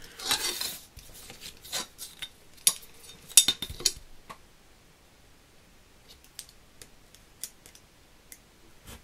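Scissors or a blade cut paper along a ruler while a Christmas album page is made, heard as sparse close snips and clicks with small taps against a quiet background, no talking.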